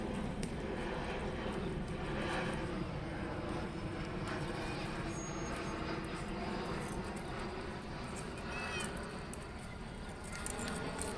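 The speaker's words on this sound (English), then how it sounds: "We have another airplane coming in here." A distant jet airliner passes overhead during a 14U youth baseball game, a steady broadband rumble lasting throughout, with crowd chatter and voices over it.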